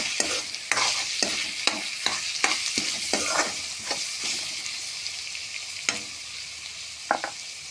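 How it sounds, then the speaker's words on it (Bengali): Spoon stirring cumin and coriander powder into a chicken curry base in a pan, a series of sharp scraping knocks roughly every half second over a soft steady sizzle, close and fairly quiet, with no talk. "2 চামচ জিরার গুঁড়ো, 2 চামচ ধনিয়ার গুঁড়ো দিয়ে ভালো করে মিক্স করে দেবো"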